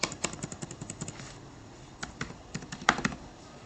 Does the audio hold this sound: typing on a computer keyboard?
yes